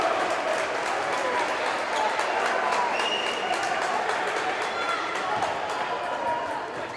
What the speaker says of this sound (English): Kagan Comer applauding the, whatever that was.